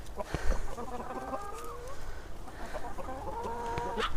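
Chickens clucking in a scattered, busy chorus as food is sprinkled for them outdoors, with overlapping calls from several birds, a few sharp squawks and faint background noise throughout.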